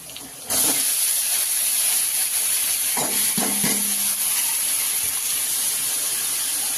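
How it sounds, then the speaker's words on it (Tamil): Large tomatoes dropped into a pan of sautéed onions for a spicy Tamil brinjal and dried-fish kuzhambu, bursting into a loud, steady, close sizzle that holds throughout, with a few clinks of a utensil. "நாலு பெரிய சைஸ் தக்காளி எடுத்து வச்சுருக்கோம் போட்டுக்கலாம்"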